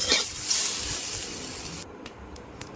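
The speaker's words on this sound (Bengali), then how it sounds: "তো দেখো এখানে আমি তেল দিয়ে অল্প করে ভেজে নেবো" Snails frying in oil with salt and turmeric make a loud, bright sizzle that fades after a couple of seconds into quieter crackles and a few sharp pops.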